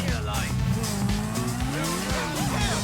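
Motorbike tyres skid and squeal in the video game GTA V, a continuous screech over engine noise and dense game sound lasting the whole stretch.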